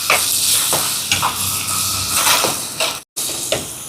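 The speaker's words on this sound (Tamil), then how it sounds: "இது தக்காளி பழம் கொஞ்சம் வதங்கட்டும்." Onions and tomatoes softening in a pan for a Sri Lankan fried-rice and devilled-chicken meal, with a steady broadband sizzle and hiss broken by soft stirring scrapes and a brief gap near the end.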